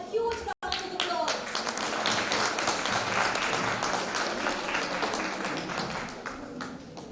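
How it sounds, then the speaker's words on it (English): A large audience at an inter-school cultural competition bursts into sustained applause, dense clapping filling the space for several seconds with a few voices mixed in, then gradually easing off. "Please give them a huge round of applause"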